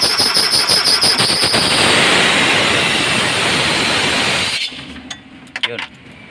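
Overhauled Nissan N14 engine with a check-engine fault, loud and rough as it starts, a dense clattering roar for over four seconds that then cuts out, leaving a few faint knocks.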